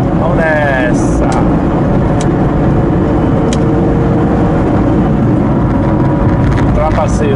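A heavily loaded car pulls out to overtake in fourth gear on the BR-116 highway in Bahia, its engine drone and road roar steady and loud throughout, with a few faint higher tones over the constant rumble.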